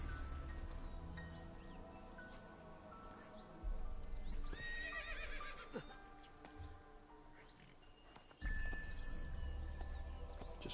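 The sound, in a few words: horse neighing and hooves in Assassin's Creed II video game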